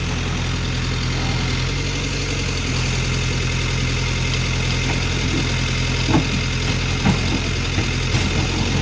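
Engine of a heavy 18-tire 150-ton Tata truck stuck on a hairpin curve, a low steady diesel rumble running continuously, with a few faint knocks and clatters toward the end.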